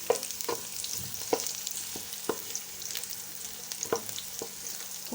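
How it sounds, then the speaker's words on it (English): Onions sweat in a pan for chicken biryani with a soft steady sizzle, broken by sharp irregular clicks of stirring, close and fairly quiet. "Nataka kusweti kitunguu."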